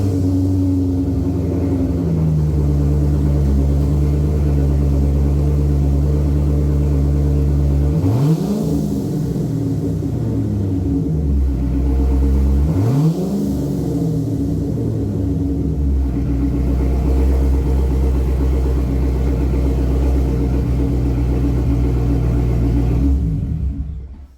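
Corvette engine idling loudly with a deep, steady rumble, blipped twice into short revs that rise and fall, then settling back to a low burble until it cuts out at the end.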